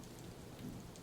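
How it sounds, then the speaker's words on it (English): Sudden rainstorm with thunder at a horse stable, steady rain noise filling the short moment with a low rumble swelling briefly in the middle, fairly faint and without voices. "Where did this storm even come from?"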